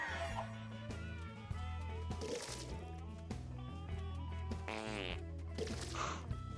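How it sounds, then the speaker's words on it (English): Comedic fart sound effects in a LittleBigPlanet community level, a rapid string of short, blaring farting bursts over a steady, loud game music backing. "Why does everybody use the fart sounds?"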